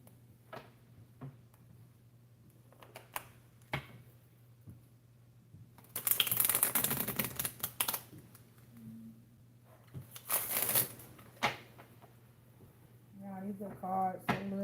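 Small, thick playing cards being shuffled by hand in two broad bursts of riffling, with scattered faint clicks and table taps between them and a voice speaking near the end.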